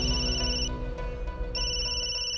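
A telephone rings in two electronic bursts separated by a short gap, loud and close over a low droning background.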